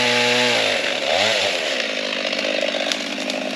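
A Husqvarna chainsaw revs up, then bites into a small tree, its loud close engine dropping pitch under load before settling into a sustained rough cutting snarl.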